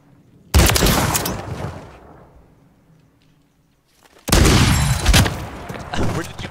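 Loud bursts of lever-action shotgun fire in a first-person shooter match, two dense volleys of close gunshots separated by a brief lull.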